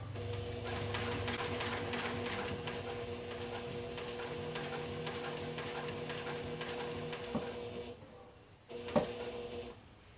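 A sewing machine runs a continuous steady stitching hum while sewing a quarter-inch seam and pivoting around a corner, ending with a few short bursts and a final clack.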